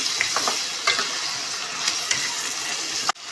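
Curry leaves sizzling in hot oil in a pan with tomato, a steady crackling fry broken by scraping stirs and a sharp knock near the end, close and fairly loud.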